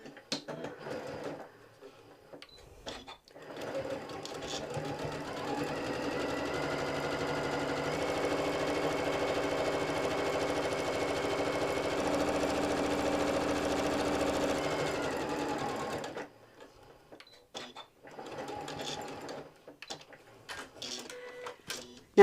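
A sewing machine fitted with a walking foot runs steadily for about thirteen seconds, stitching down two lines on fabric with a dense mechanical whir, framed by quiet handling noises before and after.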